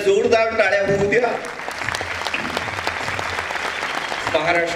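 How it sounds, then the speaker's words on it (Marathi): An audience at a Thane public event claps loudly in sustained applause while a voice speaks over it at the beginning and again near the end. "एकदा जोरदार टाळ्या होऊ द्या."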